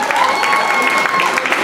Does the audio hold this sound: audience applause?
yes